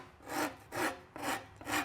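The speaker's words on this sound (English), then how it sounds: "use the fine side of my rasp" The fine side of a rasp files the wooden back of a selfbow clamped in a vise, four rhythmic rasping strokes, each a breathy scrape, close up with brief pauses between and no voices.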